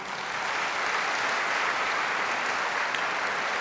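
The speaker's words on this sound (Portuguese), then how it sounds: "Vamos recebê-lo com uma salva de palmas." A church congregation gives a steady, full round of applause to welcome Bishop Pedro Bittencourt, many hands clapping together in a dense, even wash from start to finish with no voices on top.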